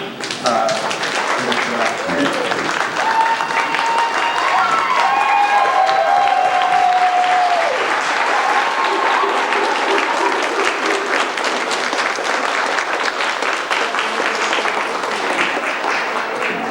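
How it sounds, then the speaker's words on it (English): Wedding guests rise for a standing round of applause after a speech, loud, dense clapping from a large crowd lasting well over a quarter minute, with some cheering, whoops and chatter mixed in. "Please, everyone, stand up, give a round of applause if you can."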